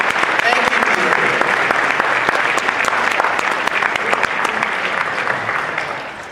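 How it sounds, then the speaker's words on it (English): A large convention audience at an anime panel applauds, a dense, continuous roar of many hands clapping at once, steady and loud throughout, easing slightly at the very end. "So give yourself a round of applause for the years of support."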